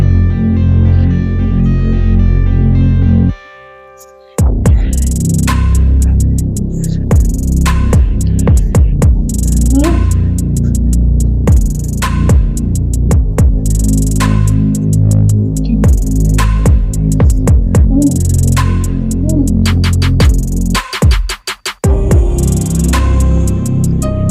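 A kitchen mixer grinds jackfruit with jaggery in a loud, steady, droning whir that stops briefly and restarts, then runs on unevenly before a final stutter.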